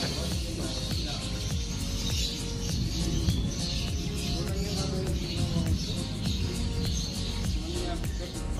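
Racing pigeon perched on a rooftop during a pigeon race finish in Vigan, Ilocos, giving short repeated chirps and tweets over dense, steady background noise, with people talking nearby.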